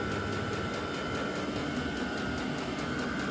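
A Vevor-type diesel heater runs in a garage with a steady, jet-like roar, a loud continuous whir with a faint rapid pulsing throughout.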